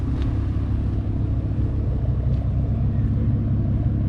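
Old Ford Taurus SHO V6 twin-turbo engine idling with a steady, loud low rumble that holds constant throughout, no voices.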